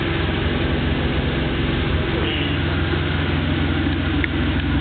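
Car fitted with a turbo-back exhaust idling steadily with a low, rumbling drone, loud and close, with no clear rev rises standing out.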